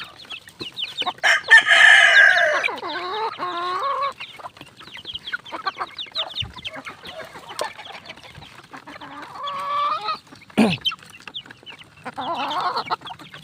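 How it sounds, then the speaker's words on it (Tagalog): Chicks and hens in a coop clucking and cheeping at feeding time, with a burst of loud, close calls early on and more scattered clucks later. "So ito mga kaibigan, nabigyan na po natin sila ng patuka yung ating mga alagang sisiw"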